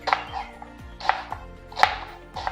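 An onion being chopped with a knife on a board, a few crisp close knocks in an uneven rhythm, each with a short bright click, no talk.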